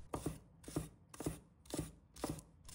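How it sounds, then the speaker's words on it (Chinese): A knife chops garlic, ginger and scallion whites on a cutting board in quick bursts of crisp taps, about five clusters, close and moderately quiet with no voices. "接着将其切成姜蒜末，葱白也切成末"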